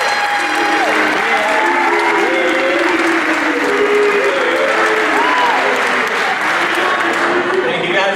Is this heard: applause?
yes